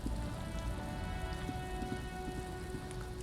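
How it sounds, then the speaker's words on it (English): Rain falls steadily in the Disco Elysium video game, a soft, even patter of drops on surfaces with a faint tonal hum beneath and no voices. "It's raining."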